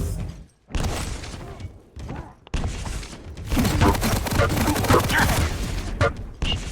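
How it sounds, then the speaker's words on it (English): Rockets exploding during a competitive video game match, a chaotic barrage of heavy booming blasts and thuds in quick succession, loud and dense, with a commentator's voice talking over the action. "Well-placed rockets."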